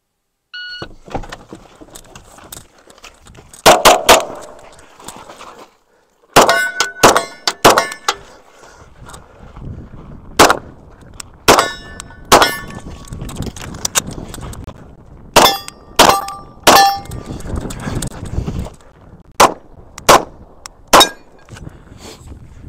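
Glock pistol fired at steel targets, sharp shots ringing out in uneven clusters with metallic clangs, loud and close with no talk over a 22-second string.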